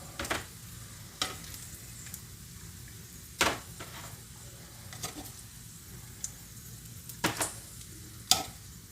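Bacon fries with a faint sizzle and soft hiss, broken by scattered clicks and scraping stirs in a pan; no one speaks.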